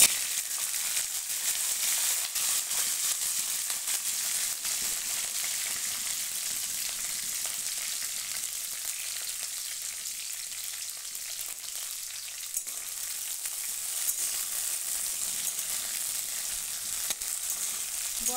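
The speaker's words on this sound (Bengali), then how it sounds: "বরবটিগুলো আমি একটু তেলে ভালো করে ভেজে নেব।" Long beans fry in oil with a dried red chilli, a steady soft sizzle and hiss running throughout with faint occasional stirring, heard alone without voices.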